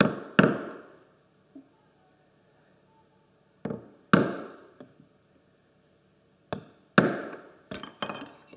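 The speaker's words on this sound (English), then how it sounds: "Then right on the knife wall in between the saw curves, one light tap, no more than that at this point." Sharp mallet taps on a chisel cutting a dovetail joint in wood at the knife wall between saw kerfs, several distinct close knocks spaced irregularly with quiet gaps between them.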